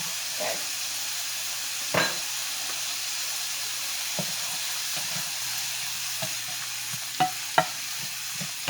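Vegetables stir-frying in a pan for chicken and broccoli with fried rice, a continuous sizzle broken by several sharp scraping stirs and clinks of a utensil against the pan.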